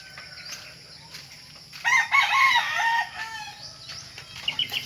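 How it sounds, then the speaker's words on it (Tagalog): Chickens clucking and a rooster crowing in a farmyard kept with turkeys and ducks, a busy burst of overlapping calls in the middle, fairly near and moderately loud. "Ang daming manok doon man na, pati pabo, pato."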